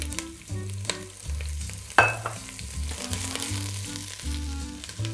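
Vegetables hit hot olive oil in a pan with a sudden burst of sizzling about two seconds in, then settle into steady frying beneath a low, tonal musical bed.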